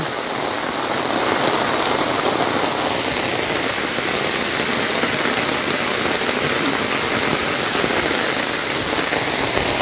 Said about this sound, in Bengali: প্রচুর বৃষ্টি পড়ছে ওদিকে রাস্তায় মনে হয় পানি উঠে গেছে